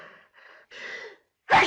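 A sharp human sneeze in a 1939 romantic comedy film, preceded by a few quick, breathy inhalations and ending in one loud, abrupt burst.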